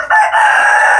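A desi hill rooster crows loudly and close at a poultry farm, one sustained clear call after a brief lead-in, alone without talk.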